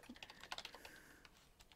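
Quick bursts of keystrokes on a computer keyboard, a brief close run of clicks that slows to a few scattered taps near the end, heard alone.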